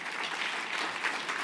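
Conference audience applauding in a hall, a steady, dense wash of clapping hands sustained evenly at moderate level without pause.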